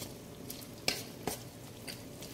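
Pork strips sautéing in oyster sauce and chilli flakes, a low steady sizzle in a pan with a couple of brief clinks of a utensil stirring, faint and close.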